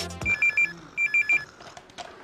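An office telephone rings with two bursts of repeated electronic trills, loud and close, followed by faint room noise.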